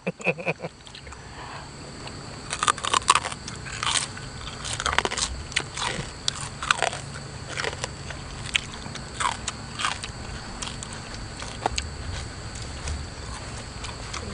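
Crunchy squid seafood being bitten and chewed up close, a series of sharp crisp crunches and wet chewing bursts recurring irregularly over a low background hum.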